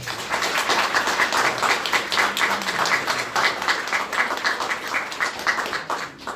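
Wedding guests applaud the couple at a ceremony, a dense, steady round of hand clapping that holds for several seconds before thinning out at the end.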